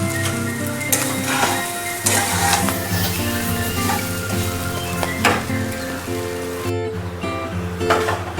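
Sabudana khichdi is stirred continuously in a frying pan, a loud close sizzle with repeated spoon scrapes and light clinks under background music.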